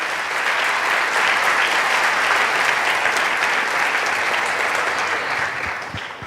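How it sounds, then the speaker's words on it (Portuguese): A church congregation applauds in praise during a Portuguese-language service at a book launch, producing steady, loud, dense clapping that holds for about six seconds and fades slightly at the end, with no speech over it. "Aplauda o Senhor Jesus."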